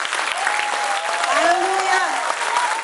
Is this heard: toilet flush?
no